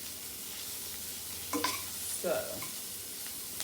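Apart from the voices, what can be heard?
organic onions sautéing in a pan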